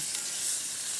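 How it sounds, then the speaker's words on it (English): Steaks sizzle in a hot pan with olive oil over a wood fire, a steady close hiss of frying with no pauses or voices. "If you don't hear that hot sizzle right away, it's not hot enough."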